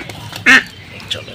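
A single loud, brief quack bursts out from a duck with paralysis as it is caught by hand to be fed a calcium tablet, over quiet background rustle.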